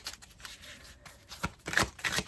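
Numerology cards being shuffled by hand, a series of soft riffling bursts that grow louder and denser toward the end, close and quiet.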